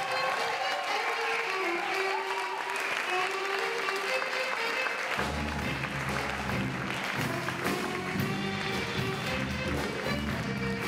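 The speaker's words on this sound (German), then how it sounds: "Bitte holt ihn herbei mit Lärm, Liebe und Applaus." At a poetry and jazz slam in a bar, a crowd claps and cheers to welcome a performer, the applause building steadily. Partway through, rhythmic stamping or drumming joins in under the clapping.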